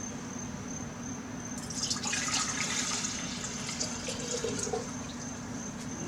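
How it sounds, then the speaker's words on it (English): Diluted gold refining solution pours into a beaker as a soft, steady liquid trickle over a few seconds, faint under a constant background hum and a high insect-like whine. "We're going to pour it into a beaker."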